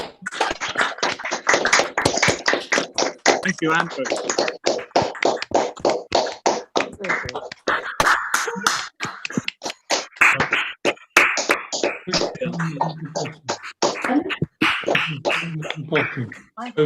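Rapid, continuous clapping from several participants on an online video call thanking the evening's mountaineering talk speakers, loud and close, with brief speech breaking in partway through.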